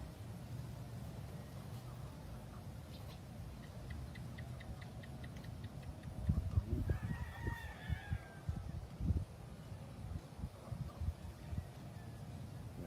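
Chickens on a farm, including hens, calling with soft clucks and a brief rising squawk mid-clip over a steady background hum, with faint voices at times.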